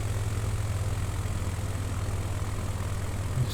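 A propeller aircraft engine in Microsoft Flight Simulator 2020 drones steadily at low throttle during a bush flight approach over Nevada, a constant low-pitched hum and buzz with no break, no voices.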